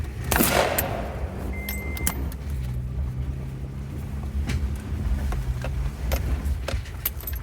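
Gunfire at silhouette targets, several sharp shots cracking out at irregular intervals over a rumbling vehicle engine and wind buffeting the microphone, loud and close.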